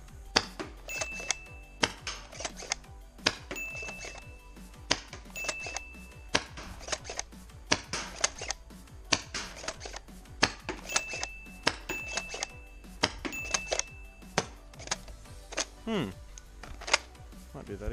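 Rapid sharp snaps of an HPA blaster running at about 75 psi, the shots hitting a box target in quick irregular bursts, repeated sequences of near crisp cracks with a faint whine.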